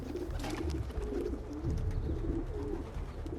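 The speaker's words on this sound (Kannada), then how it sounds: "ಓಹೋ ಪಿಜನ್ ಗೂಡು ಗೈಸ್. ಇದು ಪಾರಿವಾಳದ ಗೂಡು." Pigeons coo steadily at a pigeon coop in the video game Assassin's Creed, low rolling calls repeating close by over a soft ambient background, with no voices.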